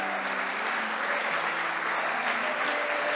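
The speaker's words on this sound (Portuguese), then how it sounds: "Pode aplaudir mais" Church congregation applauding during a sermon, a dense, steady wash of clapping that holds evenly from start to finish with no voices standing out.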